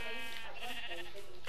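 Sheep bleating in the Minecraft video game, a short wavering game-sound bleat heard alone at moderate volume, ending in a brief sharp burst.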